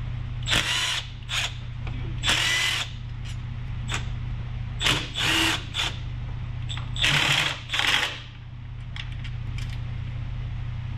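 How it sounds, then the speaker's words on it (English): A power tool runs in bursts, whirring and ratcheting as it unbolts the transfer case bolts on a Tacoma. A steady low hum sits underneath, and the bursts come several times with short pauses between them. "So we're gonna go ahead and unbolt all those bolts, get this transfer case dropped"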